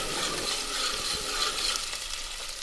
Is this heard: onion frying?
yes